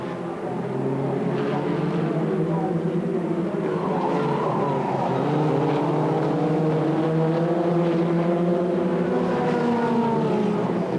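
2-litre, roughly 130-horsepower Formula Ford 2000 race car engines roar continuously at Brands Hatch in 1985, pitch sweeping up and down as cars pass and shift gears, loud and close throughout.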